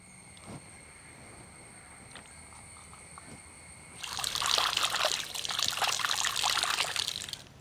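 Tap water runs and trickles over a seer fish head being rinsed clean outdoors, soft and intermittent at first, then a fuller, louder splashing stream for the last few seconds.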